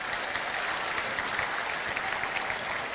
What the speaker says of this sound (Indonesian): Tepuk tangan untuk pemerintah Kota Padang dulu